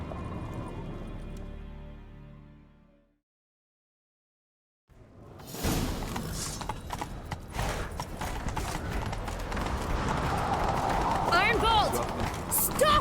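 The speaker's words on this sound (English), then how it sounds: "Grab a horse, we'll chase him down." Hooves of a horse ridden in The Witcher 3 clatter in a fast galloping rhythm that builds and stays loud after a short silence, with people talking over it and occasional whooshing movement.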